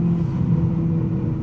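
The engine of a 1999 Mitsubishi Lancer Evolution VI gets a heavy throttle blip to rev match. It gives a brief, close, steady rumbling note with no voices.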